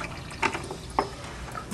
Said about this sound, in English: So you're going to dump the water into the sink.